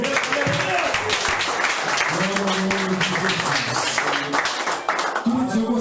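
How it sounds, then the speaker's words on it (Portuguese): Loud, sustained applause from a church congregation praising the Lord fills several seconds, a dense wash of clapping under singing or talking voices. "Você pode aplaudir ao Senhor."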